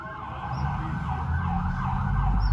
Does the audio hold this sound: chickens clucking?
no